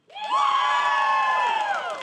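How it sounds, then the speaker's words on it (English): Esports crowd at a League of Legends show erupts in cheering and shouting with some clapping, a sudden loud burst of many voices that holds steady for about two seconds before easing off. "We got some applause there."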